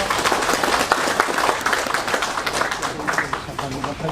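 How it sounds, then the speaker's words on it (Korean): Hall audience applauding arriving guests at the 16th Nogeun-ri Peace Prize award ceremony, with dense, sustained clapping and a voice talking beneath it. "박수로 환영해 주시기 바랍니다"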